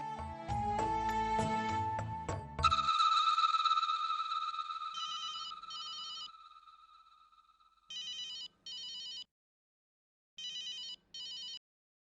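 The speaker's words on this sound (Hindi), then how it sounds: "मैं अभी फोन करती हूँ। मानव फोन दीजिए।" A telephone rings in repeated paired bursts with pauses between on an outgoing call, following a short musical jingle, clear and fairly close.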